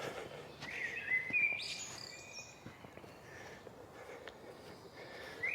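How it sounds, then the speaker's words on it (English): Faint bird chirps and short tweets scattered over a quiet outdoor background near Bothwell Castle, some calls a little louder than others. "Lots and lots of birds chirping away."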